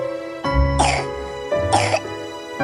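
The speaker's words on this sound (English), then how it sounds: "Soft coughing." Two soft coughs, evenly spaced, over a faint steady tone in the background.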